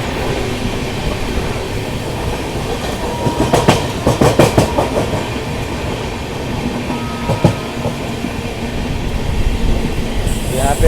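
The Sampoorna Kranti Express runs through Govindpuri station without stopping, heard from on board as a steady, loud roar of wheels on rails, with bursts of clickety-clack over points and faint flange squeal.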